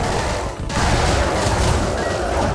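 Exploding barrels and blasts in the action game Wizard of Legend burst in a dense, loud, crackling barrage that dips briefly and then surges on without pause.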